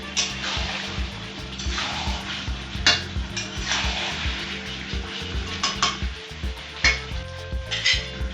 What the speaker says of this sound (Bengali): এবার গ্যাসটা জোর দিয়ে ভালো করে কষবো মাংসটাকে